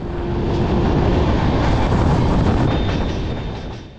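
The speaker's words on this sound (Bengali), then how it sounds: "ট্রেন এখন ভালোই স্পিডে যাচ্ছে" The Howrah-Bengaluru Duronto Express runs at speed past Cuttack, a loud, steady, dense rumble and rushing roar from on board, with a faint whining tone on top and no voices.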